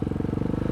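A motorcycle engine revs with a fast, even pulsing throb, loud and close, for under a second with no voices.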